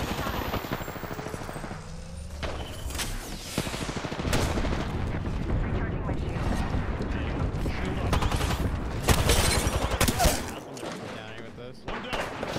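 Sustained barrage of explosions and gunfire from an airstrike bombardment in the battle royale shooter Apex Legends, rolling continuously with heavier blasts near the end, with players talking over it.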